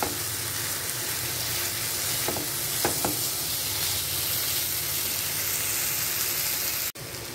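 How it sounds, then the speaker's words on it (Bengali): Shrimp fried together with spice paste in a pan for a Bengali potol dorma gives a close, steady broadband sizzle, with a few brief utensil scrapes from stirring and a sharp knock near the end. "এই চিংড়ি মাছ বেশি ভাজলে শক্ত হয়ে যায়, সেই জন্য এটাকে এই মশলার সাথেই আমি একসাথে ভেজে নিলাম"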